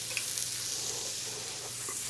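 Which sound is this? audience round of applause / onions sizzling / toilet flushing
onions sizzling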